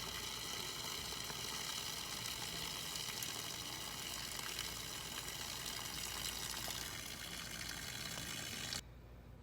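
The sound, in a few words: water draining from RV water heater via pressure relief valve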